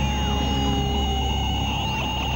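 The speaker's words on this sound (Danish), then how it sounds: "Spektrumlaser, start!" Cartoon spectrum laser firing: a sustained electronic tone with layered steady pitches and a sweeping, warbling glide, loud and continuous.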